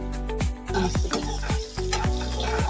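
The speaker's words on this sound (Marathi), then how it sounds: "तेल टाकूया आपण लसण टाकूया आपण आलं हिरवी मिरची जिरं टाकूया" Garlic, ginger, green chili and cumin fry in hot oil, a steady close sizzle broken by repeated scrapes and knocks of a spoon stirring the pan, about five strokes in a row.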